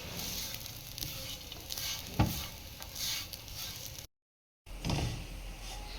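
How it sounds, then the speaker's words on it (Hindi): Grated coconut roasting in ghee, a steady moderate sizzle with scraping stir strokes and one sharp knock, cut briefly by a moment of dead silence before the frying resumes. "उसी घी में हमने खोपड़ा ऐड करना है। थोड़ा सा इसको रोस्ट करेंगे,"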